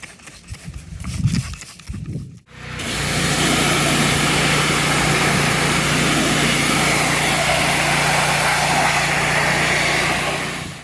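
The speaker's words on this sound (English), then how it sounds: "we're going to pressure wash this whole area here." A gas pressure washer roars steadily and loudly while cleaning a John Deere riding mower. Brief rustling and handling noise comes first, then the engine starts and runs unbroken.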